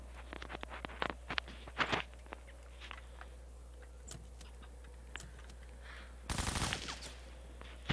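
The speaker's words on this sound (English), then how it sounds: "I'm about to snipe you with a shotgun." Shotgun fire in the video game Pavlov comes as scattered sharp blasts and clicks, with a dense burst of rapid shots near the end, set against a low, steady hum.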